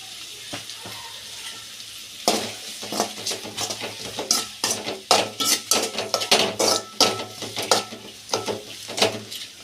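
Onions sautéing with salt in a pan for catfish puttu, with a low background sizzle and loud, rapid metallic spatula scrapes and clanks against the pan after the first couple of seconds.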